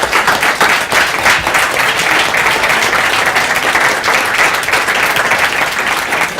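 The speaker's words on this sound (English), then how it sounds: "I think you should give them a hand" A seminar audience applauds students with dense, steady clapping that fills the room loudly throughout, a continuous wash of many hands with no voices over it.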